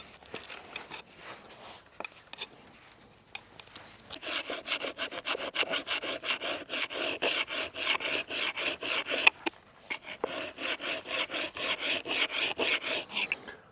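A metal file sharpening an axe blade, steadied with a folded cloth, makes a steady run of close, rhythmic rasping strokes after a few quieter seconds, with a brief pause partway through before the strokes resume.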